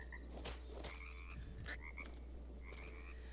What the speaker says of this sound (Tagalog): Yun lang, magiging palaka ako?